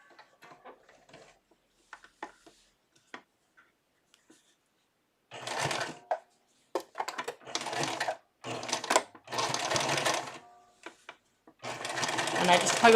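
A sewing machine stitches a doll outfit in several short bursts of rapid, close mechanical chattering, separated by pauses, with someone talking quietly between and over the runs.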